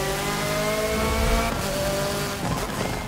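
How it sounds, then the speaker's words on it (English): A racing car engine in Forza Motorsport 7 roars steadily at high revs, with a sustained harmonic drone that shifts pitch slightly as it accelerates, loud and continuous. "Each car has their own unique and amazing sounds."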